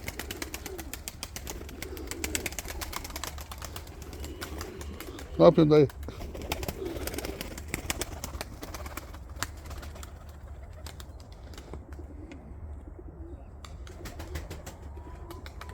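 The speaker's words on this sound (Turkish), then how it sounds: "Ama şu kuşlar hepsi kupalı kuşlar." Trophy-winning pigeons coo softly and repeatedly in the background of a Turkish loft, with someone speaking briefly over them and a closer burst of cooing midway.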